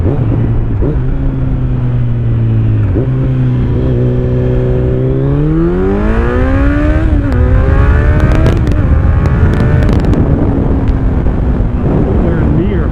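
A Kawasaki Z900 motorcycle fitted with an Akrapovic exhaust pulls away, its loud engine tone holding steady, then climbing smoothly through the revs before settling again, with heavy wind buffeting over it throughout.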